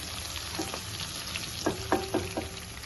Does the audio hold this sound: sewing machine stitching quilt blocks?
no